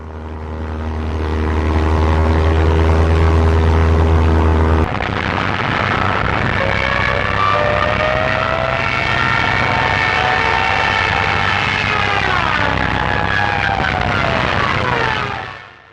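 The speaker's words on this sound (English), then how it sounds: "Japanese 63M aircraft flew in from the south around noon and started dropping bombs onto the base." Japanese WWII bomber aircraft over a Wake Island base, a loud droning propeller-engine roar that holds steady then shifts in pitch as the planes pass, fading out at the end.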